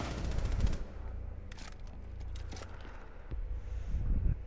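An SMG in a video game fires in rapid, close bursts: a long rattling volley at the start, then two shorter clusters of shots, with rumbling ambience between.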